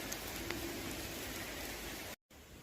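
Summer rain falls steadily on an outdoor surface, a dense, even hiss of drops close by that holds for about two seconds, then cuts out briefly before resuming.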